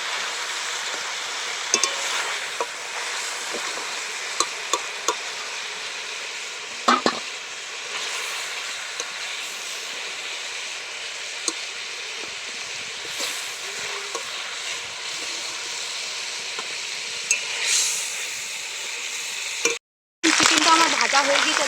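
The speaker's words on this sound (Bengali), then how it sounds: "চিকেনটা আমি হালকা করে ভেজে নিয়েছি" Chicken pieces frying in a pan for a dhaba-style chicken masala curry, with a continuous hissing sizzle, scattered scraping clicks as they are stirred, and a brief break near the end.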